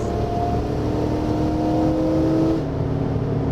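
A Toyota Mark II with a swapped 1UZ-FE V8 accelerates hard, a steady rising engine drone heard from inside the car, loud and continuous before easing off near the end.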